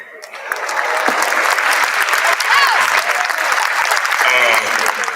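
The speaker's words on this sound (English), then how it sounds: "You can clap it out." A convocation audience breaks into loud, sustained applause that builds quickly and holds steady, with scattered cheers and whoops over the clapping and bits of voice within the crowd.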